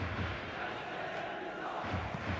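Dense stadium crowd noise in the football video game eFootball 2026 on PlayStation 5, a steady roar of cheering throughout, with a commentator voice faintly woven in underneath.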